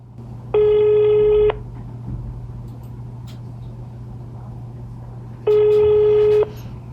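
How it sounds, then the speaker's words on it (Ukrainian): Two long telephone ringback tones sound over a steady low hum as a call goes unanswered, one early and one near the end, with a quiet pause between them. "Проте на телефоні дзвінки він не відповів."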